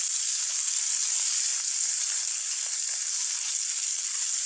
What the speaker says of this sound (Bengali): এবার মাছটাকে একটু উল্টে দিলাম